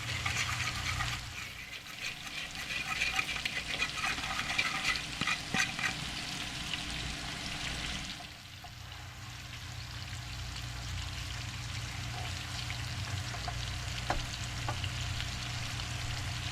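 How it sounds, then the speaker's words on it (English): Steady sizzle of food frying in a pot, close and continuous with a brief dip midway, with occasional light clinks and no talking. "We're gonna let this cook 4 to 5 minutes each side."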